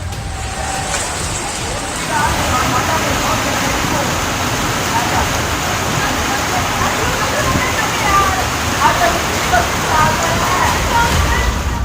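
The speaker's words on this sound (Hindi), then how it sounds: "उस सड़क पर तेज रफ्तार नदी उफनती हुई दिख रही थी" Floodwater rushing through a city street during heavy monsoon rain in Jodhpur, a loud, constant roar of churning water that fills the whole scene with no break.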